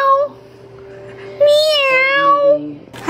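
A person imitates a cat's meow with a drawn-out high, wavering cry, then a second, longer mewing call, with a brief voice at the start and end.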